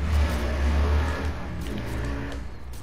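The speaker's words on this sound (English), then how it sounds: "Yeah, there's the car." A car passes close by outdoors on a very windy day, a loud low engine rumble swelling and then easing off over a few seconds, with no voices.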